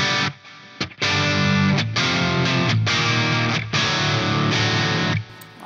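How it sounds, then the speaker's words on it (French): Distorted electric guitar riff played through a Marshall amp head with no boost pedal, a loud, crunchy rock tone of chords with brief pauses between strums, played alone. "Donc voilà le son de la tête sans le Two Stroke."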